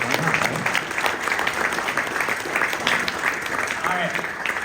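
An audience at a high school holiday band concert applauding, a thick, continuous roar of clapping with a few voices mixed in beneath it.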